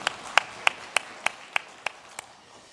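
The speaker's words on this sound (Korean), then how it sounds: "박수 함께 올려드리겠습니다" About eight evenly spaced claps in unison ring out at a steady beat in a church Sunday service, fairly quiet and slowly fading, with nothing else heard between them.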